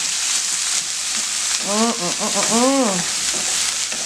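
Shrimp for tacos frying in a pan over medium heat, with a steady loud sizzle and stirring, while a voice speaks briefly partway through.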